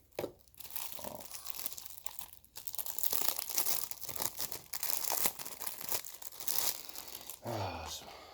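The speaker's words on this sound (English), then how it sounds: "Take all of this plastic" Plastic shrink wrap is crackled, crinkled and torn off an NBA 2K21 video game case close up, a continuous noisy rustle with sharper tearing bursts throughout.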